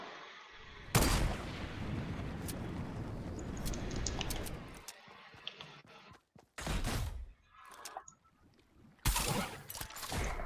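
Gunfire from weapons in the video game Fortnite on a trickshot map, loud bursts of shots at the start and again toward the end, separated by quieter gaps.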